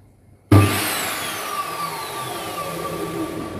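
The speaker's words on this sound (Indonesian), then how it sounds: "hentakan atau tarikan awal table saw M608 ini sangat kasar ya" A Modern M608 table saw motor kicks on abruptly with a harsh jolt, then spins up into a loud steady whine that holds close by with no talk.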